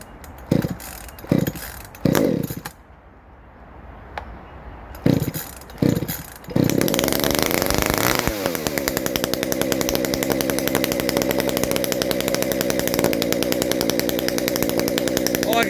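Ported Shindaiwa 390sx chainsaw cold starting: several short pull-cord bursts and brief sputters with a quiet gap, then the engine catches and runs loud and steady close by, idling with a slight rhythmic pulse.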